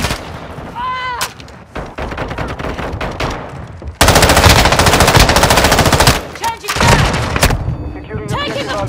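Intense gunfire fills a Call of Duty: Modern Warfare multiplayer match, with rapid automatic bursts and heavy booming shots that are close and loud, plus brief voices calling out in the mix.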